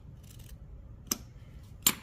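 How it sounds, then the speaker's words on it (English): Scissors snip twice through the back seam of a cotton sundress, trimming toward the stitching; two short, crisp cuts stand apart against a quiet room. "I'm cutting the back seam just to the stitching"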